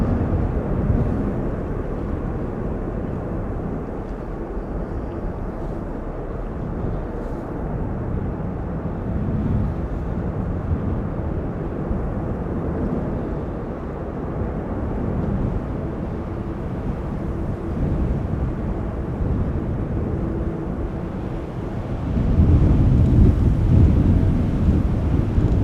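Distant rumble of a Boeing 747 at Amsterdam Schiphol Airport on a breezy day after a storm, a continuous low roar that swells louder near the end, with wind buffeting the microphone.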